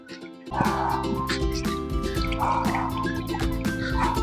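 Water trickles and drips in an indoor Buddha mountain fountain, a close continuous splashing with a soft underlying hum.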